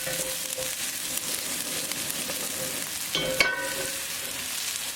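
Onions sauté in olive oil on a hot griddle, giving a steady close sizzle and crackle with a brief stirring scrape partway through.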